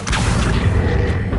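An Accio summoning spell in the Hogwarts Legacy video game sounds as a dense, loud mechanical whoosh with a low rumbling boom and faint creaks, sustained evenly across a short burst.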